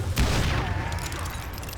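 A burst of gunfire in the Western shooter Call of Juarez: Gunslinger, a loud booming volley with a ringing tail that fades over a second or so, close and dominant with no talk.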